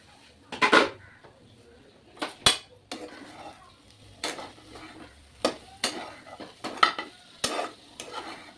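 Vegetables for a soybean salad being stirred and sautéed in a pan, with repeated scraping and clinking of a utensil against metal over a faint sizzle, close by and in irregular bursts.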